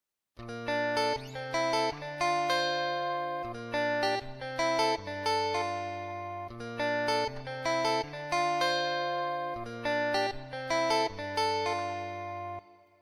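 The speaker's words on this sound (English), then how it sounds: "Then I added a guitar. The guitar sounds like this." Guitar part from a soca beat, playing a steady repeating chord pattern with bright, sustained plucked notes, loud and alone for the whole stretch.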